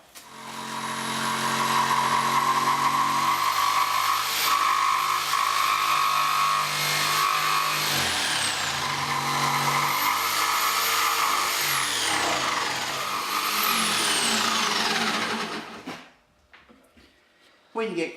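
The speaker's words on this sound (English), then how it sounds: "So when our jigsaw comes along here, we can then angle back the jigsaw" A jigsaw cuts a sink opening in a bench top, buzzing loudly and steadily up close with its pitch shifting as it moves through the board, then stopping abruptly near the end.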